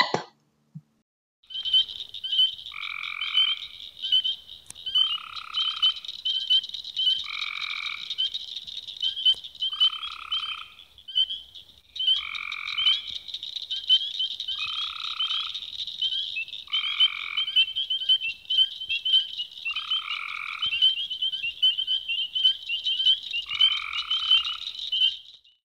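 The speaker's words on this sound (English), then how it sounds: "see if you can hear spring peepers at the same frog party we heard before, along with the Eastern Cricket Frog." A dense chorus of spring peepers and Eastern Cricket Frogs calls without pause, with high steady peeping overlaid by repeated clicking croaks in regular groups, close and clear, with no voices.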